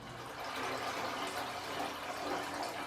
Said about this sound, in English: I'm now going to fill up the tank and show you how it all works